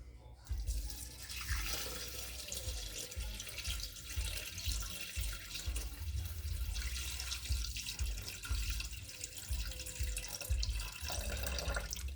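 Water poured steadily into a Thermomix bowl while measuring 580 g for a peanut butter chicken and rice recipe, a continuous close splashing stream lasting many seconds, with faint talk in the background.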